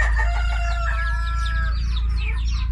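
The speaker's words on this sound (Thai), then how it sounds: "ไก่พันไข่นี่คุ้นมากเลย ไปไหนก็เดินตามต่อยต่อย" Laying hens cluck and a rooster crows on a chicken farm, overlapping close calls over a steady low background hum, no talking.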